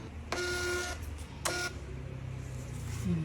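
A small label printer printing flavor labels for homemade graham bars, giving two short mechanical printing bursts over a steady low motor hum, close and fairly loud, ending with a faint beep.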